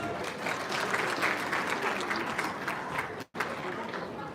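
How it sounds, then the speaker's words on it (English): Sustained audience applause at a hospital fundraising gala dinner, a broad steady wash of clapping from a large room that cuts off abruptly for a moment before resuming. "Give me a round of applause."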